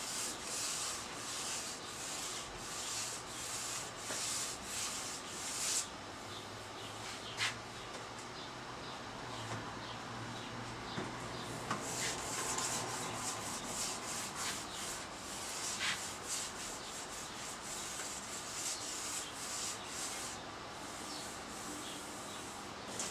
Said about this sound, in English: So that's the sanding of our second coat.